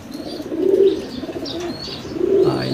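Soft, low cooing from a nearby racing pigeon, two or three rounded calls with faint chirps and rustling in between.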